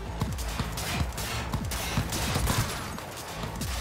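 A gun firing in Cyberpunk 2077 lets off a rapid run of sharp, punchy shots in irregular bursts, each with a short thumping body, over a busy game background and no talk.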